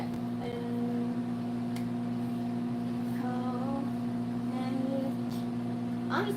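A microwave oven hums steadily while melting butter, a constant close electrical drone with faint faint clicks and brief tonal beeps over it.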